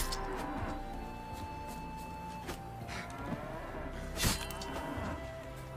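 A cow moos in a video game, a drawn-out low call rising over a steady hum of game audio, with a few sharper clicks and one louder burst near the end.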